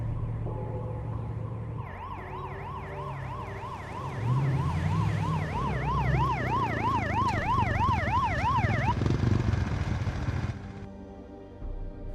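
Police motorbike sirens from the film Quantum of Solace, a loud wailing two-tone siren sweeping rapidly up and down over engine rumble, rising in intensity then cutting off.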